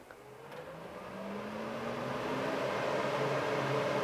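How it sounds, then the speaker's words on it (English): A Xiaomi air purifier fan spins up to full speed in manual mode, a steady whooshing roar that rises and grows louder over several seconds, with no one talking. "that's where the fan runs up to full speed. It's a fairly loud fan."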